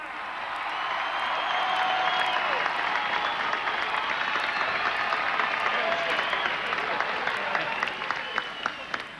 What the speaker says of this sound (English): please give them some applause